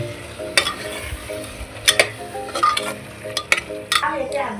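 A spoon stirs spinach, peas and potatoes in a hot pan, with repeated scraping strokes against the metal over a continuous sizzle, close and fairly loud.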